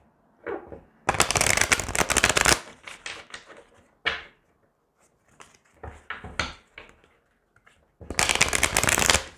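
Cards being shuffled in quick riffling bursts, several separate shuffles with brief pauses and soft handling noises between them.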